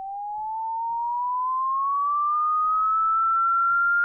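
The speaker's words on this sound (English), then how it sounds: "here we have a sine wave," Pure synthesizer sine wave tone in Bitwig, a single steady clean pitch gliding slowly upward over a few seconds, alone and unbroken with no talk.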